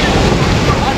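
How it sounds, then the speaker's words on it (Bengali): Large ocean waves break and wash onto a beach by the Arabian Sea near Rameswaram, India, a loud, continuous broadband roar of surf with wind buffeting the microphone. "ঢেউটা দেখো, ঢেউ দেখো,"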